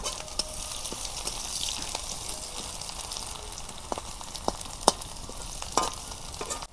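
Onions fry to brown in a pan for a meat dish, a steady close sizzle with scattered sharp pops and crackles and an occasional stir.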